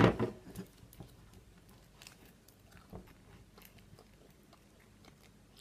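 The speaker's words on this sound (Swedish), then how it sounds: "Nu är det dags att smaka denna himmelska kaka." Someone chewing a bite of homemade cake close to the microphone, soft wet crunching and mouth noises in irregular bursts, loudest at the start and end, with no talking.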